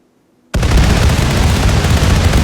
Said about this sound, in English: the cleanup crew triggered the detonator with a whole bunch of grenades